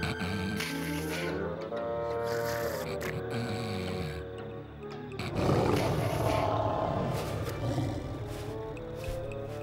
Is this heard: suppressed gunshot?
no